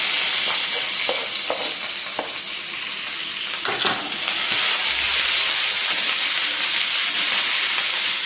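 Onion sautéing in a pan, with a steady, close sizzle and hiss of frying that becomes louder and fuller halfway through, joined by a few faint clicks of stirring.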